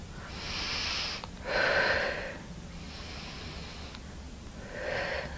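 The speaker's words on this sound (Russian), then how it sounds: "И просто начинаем глубоко дышать животом." Slow, deep belly breaths during a guided exercise, close and soft: airy inhales and exhales repeat in an even rhythm, with no talking.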